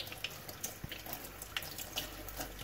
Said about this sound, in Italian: Adesso le passiamo solo sotto l'acqua e vediamo.